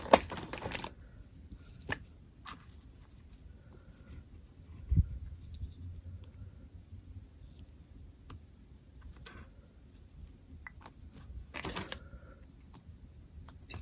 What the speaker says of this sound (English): So here, I'll glue it on there.